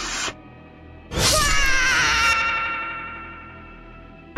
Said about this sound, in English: the screen cut to black as something got sliced, before a loud and agonizing scream could be heard